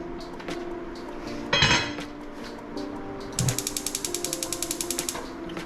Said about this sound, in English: for the next process, we'll take a heavy bottom pan